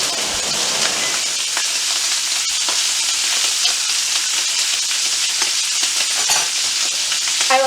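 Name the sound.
filet mignon searing in butter in a pan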